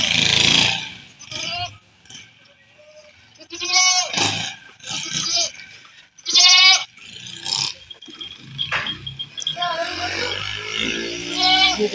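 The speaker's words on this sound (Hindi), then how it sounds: "ये एक मक्खा चीनी बकरी है" Goats bleating repeatedly on a farm where Chinese goats and young kids about 15 days old are kept, loud nearby calls with harmonic bleats coming in bursts, mixed with people talking.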